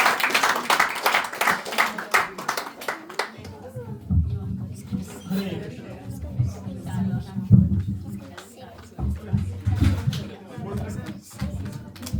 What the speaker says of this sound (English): Please give a round of applause before we start.